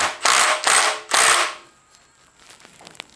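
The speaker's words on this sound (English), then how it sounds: "Torque to spec. Torch to spec, always." A torque wrench ratcheting a bolt on a Nissan S14 during parts refitting: three loud, close rasping strokes in quick succession, followed by quiet with faint mechanical clicks.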